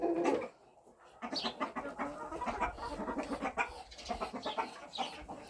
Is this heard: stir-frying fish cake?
no